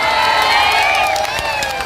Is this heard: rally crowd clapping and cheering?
yes